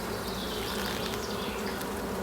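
Honey bees hum inside an opened hive's brood box, a dense continuous buzz heard up close and fairly loud, with no voices.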